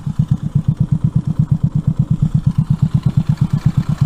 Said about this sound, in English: at low idle is when you can hear the best for when you're adjusting your air fuel